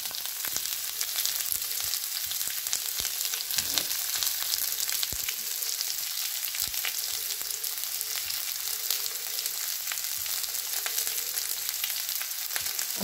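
Vegetables and onion sautéing in a pan, a steady broadband sizzle running the whole time with occasional sharper crackles and pops, fairly close and with no voices.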